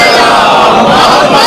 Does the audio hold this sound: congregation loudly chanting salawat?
yes